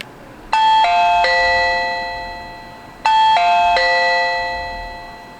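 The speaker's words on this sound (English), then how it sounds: "Doorbell ring test" A Reolink Video Doorbell 2nd Gen ring chime plays a three-note electronic ding-dong sequence twice, each ringing tone lingering and fading, clear and close.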